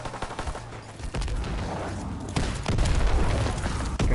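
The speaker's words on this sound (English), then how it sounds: "Random grenades." Grenades going off in a zombies video game, a chaotic run of booms and bursts layered with rapid gunfire, loud and dense throughout, swelling heavier toward the end.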